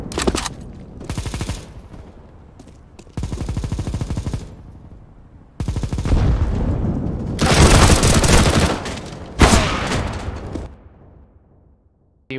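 Bursts of rapid gunfire from a decoy grenade mimicking weapon fire in Counter-Strike: Global Offensive, coming in several loud separated volleys with short gaps, the longest and loudest near the end, with no talk.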